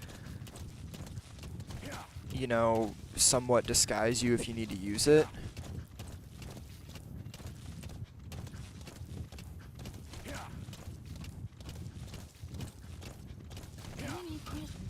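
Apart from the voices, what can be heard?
horse hooves clip-clopping while riding, Metal Gear Solid V video game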